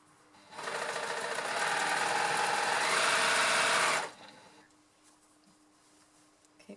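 Sewing machine stitching a knitted sleeve at the shoulder seam, a fast even mechanical whirr running for about three and a half seconds, near and clear, then stopping into quiet.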